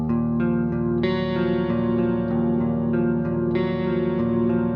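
Electric guitar clean tone through a Dimension 2 chorus model on a Fractal FM3/FM9/Axe-FX III, lightly driven, strumming sustained chords with a few strong new attacks and a wide shimmering wash, loud and close without voices.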